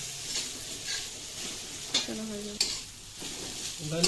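Soaked broken wheat (dalia) sizzles steadily in a hot pan while a utensil stirs and scrapes through it, with a few sharp clinks against the pan.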